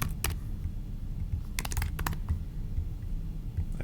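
Quick bursts of keystrokes on a computer keyboard, close and crisp, clustered in short clatters with pauses between them over a low steady background hum.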